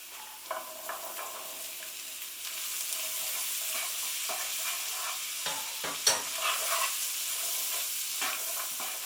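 Chickpeas being stirred with spices in a hot frying pan: a steady sizzle under irregular scraping and clinking of the utensil, with a sharper knock near the end, and no talking.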